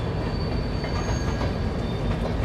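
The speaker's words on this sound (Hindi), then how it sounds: "तो ये थी एक बेहद खूबसूरत रेलवे एक खूबसूरत क्रॉसिंग दो ट्रेनों की।" Two trains pass each other on the tracks just outside Prayagraj railway junction, heard from aboard the Durg–Nautanwa Express: a loud, steady close-up roar of wheels and carriages with faint high metallic squeals above it and no talking.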